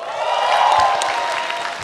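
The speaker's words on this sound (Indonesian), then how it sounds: "tepuk tangan untuk Ari." Audience applause greets a stand-up comic at an Indonesian stand-up comedy show: a steady, dense wash of clapping that holds at an even level throughout.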